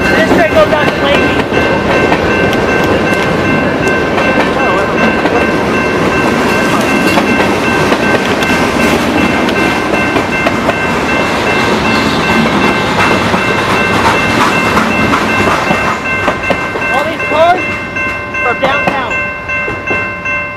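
A train passes on the rails close by, a loud continuous rumble with rhythmic clacking of wheels over joints and tonal metallic squeals building toward the end.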